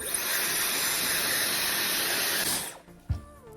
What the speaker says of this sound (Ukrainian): І далі просушимо це все феном на теплій температурі, не на гарячій.